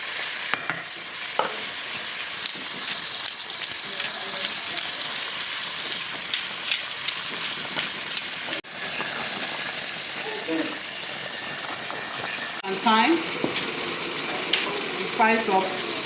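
Meat sizzles and fries in a pan while salt, pepper, curry and thyme are stirred in, a steady close crackle with scraping stirs and a voice talking over it.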